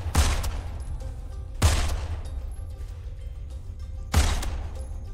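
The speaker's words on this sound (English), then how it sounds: "Am I supposed to continue shooting those shits or what?" Gunfire in the shooter game Immortal Redneck: three heavy, booming shots spaced a couple of seconds apart, each with a rumbling decay, loud and alone with no voices.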